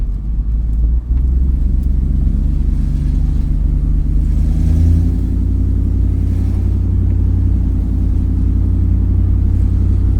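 A car fitted with a junkyard 4L60E automatic transmission driving in second gear, its engine a loud, steady close-up rumble that drones on without a break.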